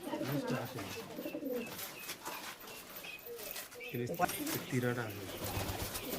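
Pigeons in a loft where birds are kept for sale give low, repeated throaty coos, close by and mixed with people talking.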